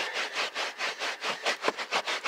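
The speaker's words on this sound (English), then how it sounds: "Take a clean, semi-clean microfiber cloth and just kind of scrub this stuff like this." A microfiber cloth scrubs a surface coated in orange cleaner degreaser in quick back-and-forth strokes, about ten rhythmic rubbing swipes, close and fairly loud.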